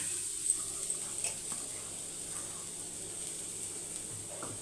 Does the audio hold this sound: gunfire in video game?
no